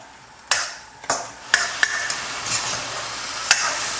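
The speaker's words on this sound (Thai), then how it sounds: "ผัดในซอสครับ เร่งไฟขึ้นมาได้เลยนะครับ" Sizzling shrimp stir-frying in salted egg sauce in a hot pan, with sharp scrapes and clanks of a utensil stirring, several distinct strokes over a steady fry hiss.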